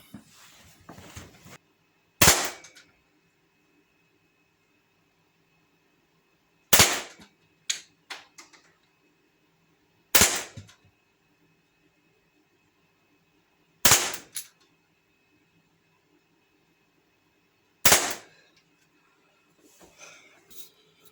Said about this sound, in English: I'll take another 5 shots